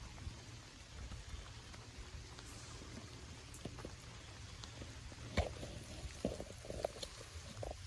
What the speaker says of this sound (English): And the rains came tumbling down.